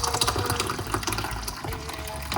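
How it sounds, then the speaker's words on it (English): Hot water pours from a kettle over freshly squeezed lemon juice in a cup, a short splashing, trickling pour heard up close with no talking. "I'm going to pour hot water"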